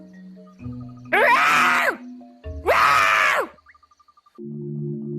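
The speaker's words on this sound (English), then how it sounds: "all at once I heard the most horrid, unearthly screaming" A parrot shrieks twice in long, harsh, rising-and-falling screams, loud and near, set against a low musical drone, with a short run of rhythmic ticking before the drone returns.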